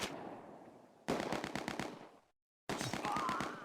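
Vickers and Bren machine guns fire in the Close Combat game, heard as loud, rapid bursts of automatic gunfire with rhythmic repeated shots, broken by a short sudden silence before another burst.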